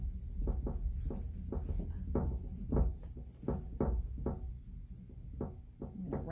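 Colored pencil strokes scratching across paper while filling in bold, solid areas of a Keith Haring-style figure, a steady run of short rhythmic scrubbing passes, close and fairly soft, with no talking.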